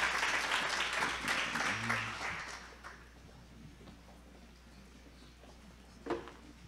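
Applause from a breakfast tribute audience swells for about two seconds, then thins into scattered clapping and room murmur, with one brief louder clap near the end.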